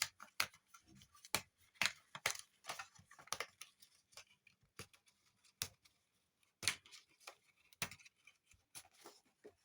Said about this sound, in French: Donc, on décroche notre papier tout doucement.